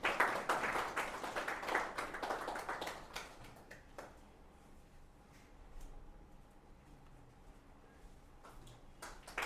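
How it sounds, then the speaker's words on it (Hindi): A seminar audience in a hall breaks into loud, dense applause that gradually thins and fades after a few seconds, leaving scattered claps and quiet room noise. "उनके लिए भी एक बार जोरदार तालियां बजा दो भाई"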